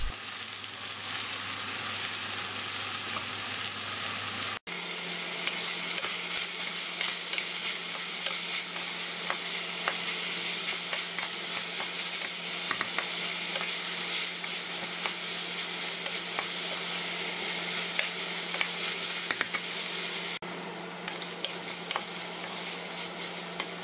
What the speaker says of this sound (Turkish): irice doğradığım, yemeklik doğradığım soğanlarımı da ekleyip devam kavuruyorum